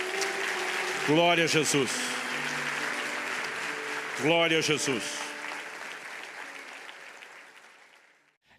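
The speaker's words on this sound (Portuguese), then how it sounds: "Você pode dar ao Senhor um forte aplauso." Congregation applause fills a church service, steady broadband clapping beneath a preacher's voice calling out twice, with the clapping fading toward the end.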